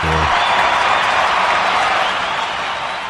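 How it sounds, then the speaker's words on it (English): A crowd gives a big round of applause, a dense, even wash of clapping that is loud and sustained, fading slightly toward the end after a brief voice at the start. "So a big round of applause"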